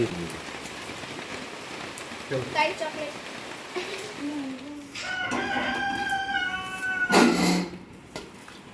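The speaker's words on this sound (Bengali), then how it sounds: "ওদিকে মোরগ ডাকছে" A rooster crows a couple of times in the middle distance, over a steady patter of rain, with faint voices and household noise earlier on.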